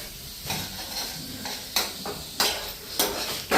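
Spices with ginger-garlic paste frying in a pan give a close sizzle broken by several sharp stirring scrapes at a rough, uneven rhythm.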